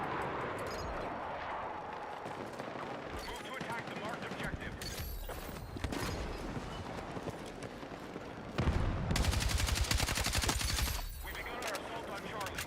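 Sustained bursts of RPK machine gun fire in the Battlefield 6 video game, rapid rhythmic rattling that swells loud and dense near the end, with ongoing battle noise and a voice talking over parts of it.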